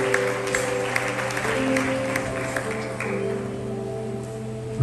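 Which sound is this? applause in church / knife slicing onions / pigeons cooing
applause in church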